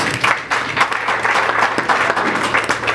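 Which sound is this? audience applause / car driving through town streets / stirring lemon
audience applause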